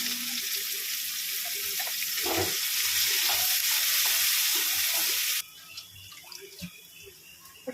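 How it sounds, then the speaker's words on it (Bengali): Onions frying in hot oil with cumin seeds in a pan, a loud steady sizzle with a stirring clatter near the middle, dropping abruptly to a quieter crackle for the last couple of seconds. "পেঁয়াজটাও ভেজে নেবো ভালো করে"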